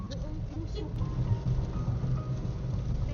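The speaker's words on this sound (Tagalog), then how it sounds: "Medyo humina yung ulan." Heavy rain pouring down on a moving Toyota Wigo during a drive from Montalban to Cabanatuan, a continuous dense hiss with low rumble underneath, close and fairly loud throughout.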